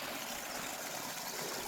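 Spring water at Kedar Dhara flows out from stone in a steady, close rushing trickle, an even continuous wash of water with no talking.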